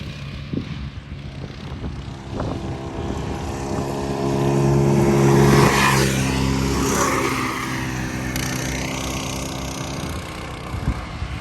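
Race cars circling a track, their engines forming a steady droning whine that swells and peaks as they pass close in the middle, then fades back to a continuous distant hum.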